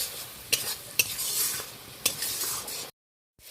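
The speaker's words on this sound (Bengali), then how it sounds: "অল্প একটু জল দিয়ে ভালো করে ফেটিয়ে নেব, ভালো করে কষিয়ে নেব।" A spoon stirs prawns and spices frying with a little water in a pan for an okra recipe, a soft continuous sizzle broken by a few sharp metallic scrapes and clinks, close up, then a brief silence.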